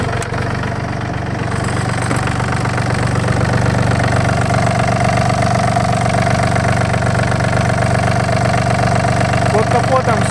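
A Yanmar AF226 four-wheel-drive mini tractor engine idles with its hood open, a steady loud diesel chug with even rhythmic knocking that holds constant throughout.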